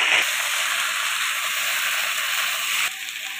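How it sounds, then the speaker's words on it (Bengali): Vegetables fry with ginger paste for Bengali shukto while being stirred, making a continuous close sizzle and hiss that holds steady, then drops off sharply near the end. "আদা বাটাটা দিয়ে 4 থেকে 5 মিনিট মতো নেড়ে নিয়েছি"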